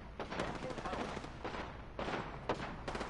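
Video-game gunfire between rival teams, repeated bursts of rapid shots crackling in clusters with short gaps, fairly loud and close, some voice chatter mixed in.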